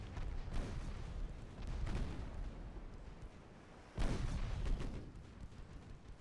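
Destroyer guns fire in a naval warfare video game, with deep booming salvos at about 0.5, 2 and 4 seconds. Each blast rumbles loudly before it dies away.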